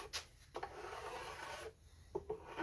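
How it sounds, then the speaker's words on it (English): A file rasps gently along the edge of a bass guitar fingerboard, making quiet, close scraping strokes with brief pauses between passes, soft and dry without any voice. "With your file, you're going to come at it from a perpendicular fashion to the top of the fingerboard."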